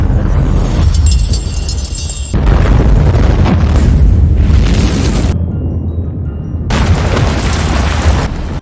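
A film explosion, with loud deep booming blasts and a roaring rumble in several surges separated by an abrupt near-silent gap, close and heavy.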